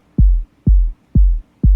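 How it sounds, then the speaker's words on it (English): Big deep kick drum sample, the sub layer of a kick in a music production, booming four times at a steady mid-tempo pulse, loud and close with long low tails and no other sounds. "the big kick sounds like this. So it's like the sub layer of the kick."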